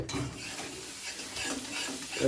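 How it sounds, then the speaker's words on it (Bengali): Semolina frying in ghee, stirred continuously in a pan, giving a close, gritty scraping over a faint sizzle. "আগে হচ্ছে ঘি দিয়ে ভেজে নিতে হয় সুজিটাকে।"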